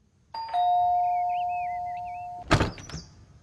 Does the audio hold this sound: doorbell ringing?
yes